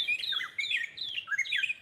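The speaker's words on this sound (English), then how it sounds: "Hear the birds? Yeah, the birds sing really nice here." Several birds sing outdoors in the morning, a steady run of bright chirps and warbling phrases repeating close together, moderately loud over a quiet background with no talking.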